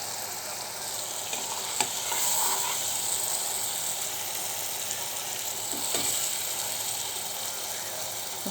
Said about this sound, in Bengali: মশলাটা আর একটু কষুক